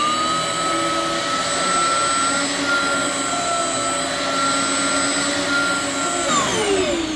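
A Riccar Tandem Air vacuum cleaner runs on its direct air motor alone, a loud, steady whine and rush of airflow that holds throughout, with a slight pitch shift near the end as it moves over sandy carpet.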